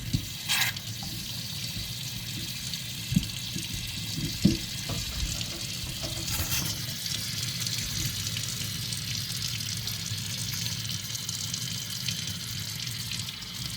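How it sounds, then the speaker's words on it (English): Water runs from a Moen kitchen faucet after the shut-off valve is turned back on, a steady soft rushing stream with a couple of faint clunks and handling noises. "we're going to turn the water back on your shut-off valve"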